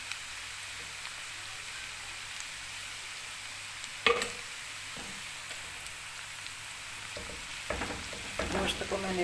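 Ginger garlic paste frying in a karahi for a white mutton dish gives a steady soft sizzle under faint stirring, with a sharper clatter midway and louder scraping near the end, and no talking.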